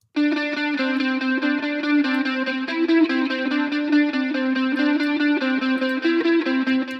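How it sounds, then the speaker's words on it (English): Electric guitar in Logic Pro with chorus applied after reverb and delay on the amp signal, a steady shimmering distorted tone sustained for several seconds, with the notes shifting slightly. "a chorus directly after, affecting the reverb delayed amp signal"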